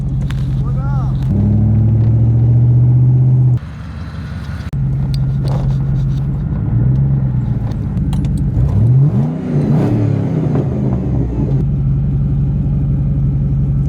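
A C6 Corvette in rough condition idles and revs close by, its engine note rising and falling in several throttle blips over a steady rumble, with someone talking over it.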